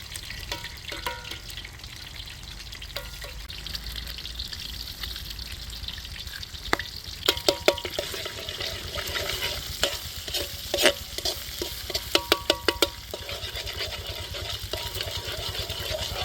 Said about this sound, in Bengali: সুন্দর করে ভেজে নিব।